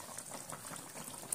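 A thick tomato pickle simmers uncovered in an open pan, soft steady bubbling and popping, close and quiet.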